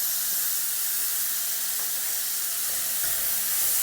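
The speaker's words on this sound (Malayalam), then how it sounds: "ചെറുതായി അരിഞ്ഞത് കൂടി ചേർത്ത് നന്നായിട്ടൊന്ന് വഴറ്റിയെടുക്കാം." Chopped onion sautés in a pan for a Kerala-style chicken stew, giving a steady, close, dense sizzle and hiss that holds the whole time with no talking.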